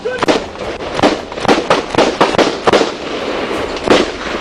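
Gunshots in a police shootout, a rapid irregular volley of sharp loud cracks, about a dozen in quick succession, close and echoing.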